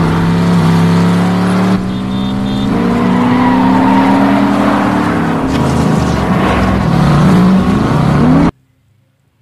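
Car chase from the 2011 film Drive: loud, continuous engine roar with rising pitch and a long tire screech, close and dense, cutting off abruptly near the end.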